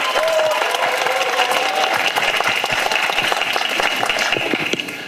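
Students at a university dialogue event in Suwon give steady, loud applause across a large hall, a dense crowd of clapping heard throughout.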